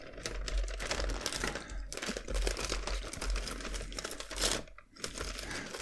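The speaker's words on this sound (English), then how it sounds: "Don't you just love ripping open presents?" Wrapped presents from a Diamine Inkvent 2023 ink advent calendar being ripped open, with steady close crinkling and tearing of paper that runs throughout, nearly continuous and with no talking.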